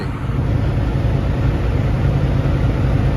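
A Freightliner Argosy glider truck sits high idling, giving a loud, steady, unbroken low rumble with faint traffic-like hiss and no change in pace throughout.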